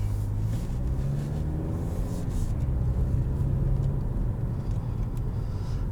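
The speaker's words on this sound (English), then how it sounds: "let's go ahead, head out on the road" A 2019 Toyota Camry XLE driving on the road in Sport mode, with a steady, close engine and road rumble inside the cabin, continuous throughout with no talk.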